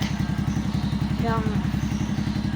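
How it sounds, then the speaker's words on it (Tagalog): A motorcycle engine runs at a steady idle while someone works on it nearby, its low, even pulsing continuing close and loud throughout. "Ang ginagawa niyang kinakalikot ang motor."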